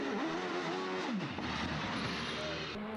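A hillclimb race car at Craigantlet in Northern Ireland revs hard as it climbs, its engine pitch rising and dropping through gear changes, loud and continuous with crowd and wind noise beneath.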